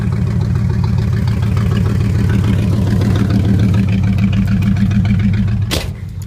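A 1978 Chevrolet Camaro Type LT idles loudly up close with a steady, lumpy low rumble throughout, followed by a brief sharp noise near the end as the engine sound drops.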